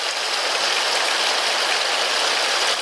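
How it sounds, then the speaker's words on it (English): Heavy rain pours outside an open window, an even, loud hiss that continues without a pause and with no one speaking. "Here it's really raining."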